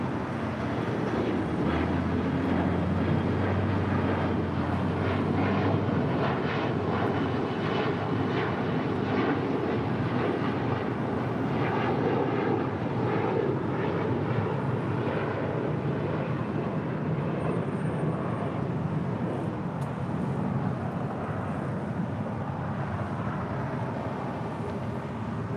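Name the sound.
Alaska Airlines A321neo at LAX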